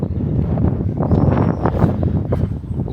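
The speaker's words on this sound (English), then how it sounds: "the wind's starting up again, so I hope you can hear me clearly on the microphone" Wind buffets the microphone outdoors beside rugby fields on a foggy evening walk, a steady low rumble that swells and eases throughout.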